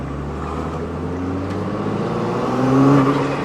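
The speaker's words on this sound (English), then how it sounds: "Just enough to hear the blow-off valve" Chevrolet Camaro ZL1 1LE droning steadily through a gear change, with a brief whooshing release rising near the end over the constant engine and road rumble.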